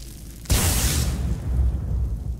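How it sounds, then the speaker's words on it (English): A chain lightning spell cast in Skyrim bursts in abruptly as a loud crackling blast, then decays into a rumbling roar that lingers to the end. "Look at this. Chain lightning."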